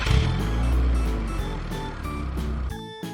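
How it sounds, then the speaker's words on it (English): A car's engine runs close by with a steady droning hum, with a few rhythmic surges and rattles in it, before it cuts off abruptly near the end. "This is the car sound."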